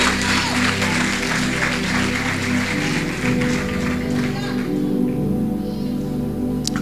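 A church congregation applauding during an evening worship service, sustained steady clapping over a low droning music bed, easing off toward the end.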